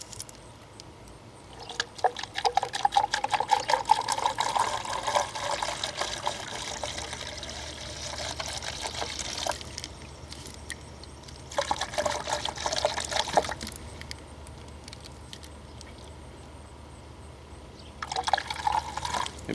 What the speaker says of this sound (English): So I'm going to pour about a half gallon of each, and then once I get to the half mark, then I can combine them into 1 gallon.